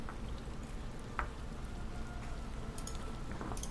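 Steady rain ambience on a bridge: a dense, even hiss of falling rain with scattered sharper drops and patters, held at a low level throughout with no talk.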